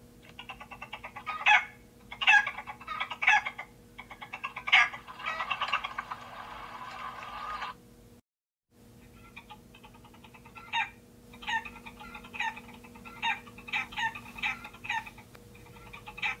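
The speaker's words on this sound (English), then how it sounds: "Oh, come here, all chickens." Animated chickens cluck in short, bright bursts, several calls in quick succession, then a brief silent gap before more clucking follows at a lower level.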